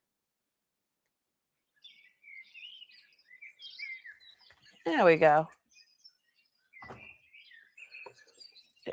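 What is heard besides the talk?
recording of chirping birds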